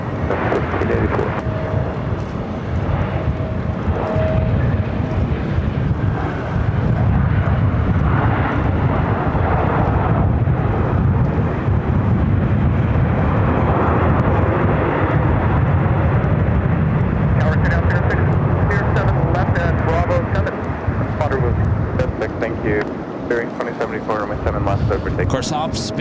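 An airliner lands on a runway at LAX during extreme winds, making a deep, continuous jet roar throughout. Radio talk runs over it much of the time.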